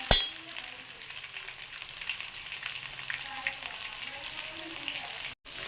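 Drumsticks fry in a pan while being stirred gently, with a soft, steady sizzle and faint scraping throughout and a brief clatter at the start.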